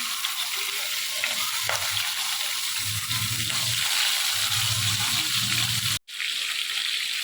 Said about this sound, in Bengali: মাছগুলো দিয়ে এবার হালকা করে ভেজে নিতে হবে।